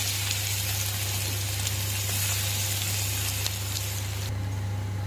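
Garlic and ginger hit hot oil already holding dried red chillies and whole cumin, giving a steady, loud sizzle and crackle that runs unbroken, with a low electrical hum underneath and no voices.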